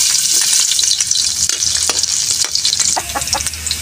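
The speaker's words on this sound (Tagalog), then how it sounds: "Nagisa na po tayo." Onions sauté in a hot pan for a Filipino pata tim dish, giving a loud, continuous, close sizzle and crackle with occasional stirring scrapes.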